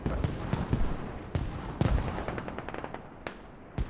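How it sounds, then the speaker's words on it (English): Mortar and indirect-fire impacts in a military infantry battle video game land as a string of sharp booms and cracks, some heavy and close, others quicker and lighter, scattered irregularly through the clip. "Mortars, indirect fire"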